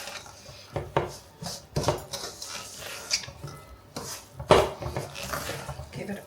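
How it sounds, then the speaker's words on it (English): A utensil clatters and scrapes against a bowl while lemon tea cake batter is mixed, giving irregular knocks and scraping strokes up close with some rustling in between. "Give it all a nice mix."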